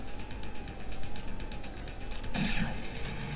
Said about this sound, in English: This music even has police sirens in it